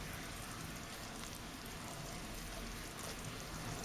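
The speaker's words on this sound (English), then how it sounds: "It's bubbling well." A soft, steady crackling hiss of homemade marmalade boiling and bubbling in a pan, with fine popping throughout and no voices.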